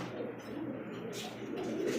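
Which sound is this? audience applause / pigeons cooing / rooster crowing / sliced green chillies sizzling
pigeons cooing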